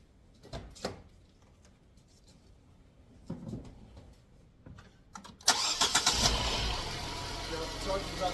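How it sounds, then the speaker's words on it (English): A car engine cranked with a portable jump starter with air compressor: a few faint clicks and quiet handling sounds, then the engine catches loudly and settles into a steady idle, with a voice speaking during it. "So we're going to start the car."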